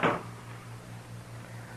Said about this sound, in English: Shut the door, Chester.